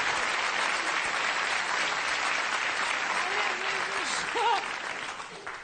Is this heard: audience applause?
yes